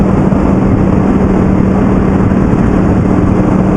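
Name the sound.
motorcycle engine overrun burble, Yamaha R1 or Aprilia Tuono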